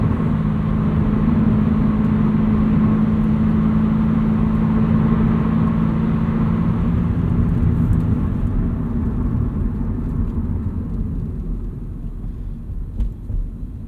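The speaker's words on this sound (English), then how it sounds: "this car is a little bit louder with that exhaust" Subaru BRZ sports car fitted with a loud aftermarket exhaust, its engine droning steadily and loudly while driving, then easing off and quieting toward the end.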